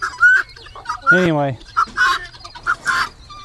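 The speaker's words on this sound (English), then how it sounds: "this is where the chickens are going to hang out for a while" Chickens cluck repeatedly in short bursts on a farm yard kept safe from coyotes, with one longer drawn-out call in the middle; someone speaks briefly over them.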